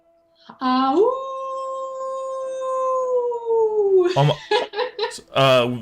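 A person's voice imitates a wolf howl: one long, sustained, gently falling tone held for several seconds, close and clear, then talking follows.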